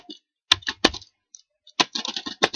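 Computer keyboard typing while entering account names in MYOB v13 accounting software, with bursts of sharp close keystrokes, a distinct Enter press, a pause, then a quicker run of keys.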